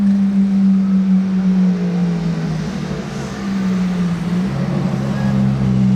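A Ferrari Daytona SP3 with a straight, open exhaust holds a loud, continuous low engine drone that wavers slightly in pitch, with no talking over it.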